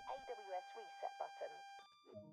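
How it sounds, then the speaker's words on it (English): The AWS self-test alarm in a train simulator video game sounds as a steady electronic tone that holds under quiet talk, then shifts pitch near the end. "That alarm is the AWS self-test system."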